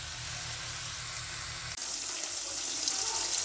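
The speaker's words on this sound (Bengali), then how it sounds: "মাছগুলো ধুয়ে নেবো" Fish being washed under running water, a steady close splashing rush that grows slightly louder after a low hum cuts out partway through.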